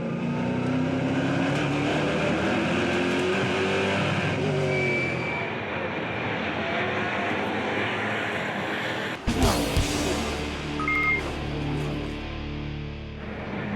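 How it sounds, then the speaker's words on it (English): Onboard a Chevrolet SS NASCAR race car at Brands Hatch, a loud continuous engine roar with shifting pitch through the lap, a sharp burst of wind or impact noise partway through, then steady revving again. "Now we're on board with Jan Zimmer, who overtakes Javier Villa in his Chevrolet SS after making a good start"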